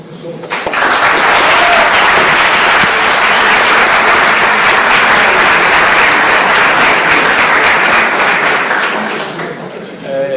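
Audience at a debate on disarmament breaks into loud, sustained applause, a dense wash of clapping from a large crowd that swells quickly, holds for about nine seconds, then fades.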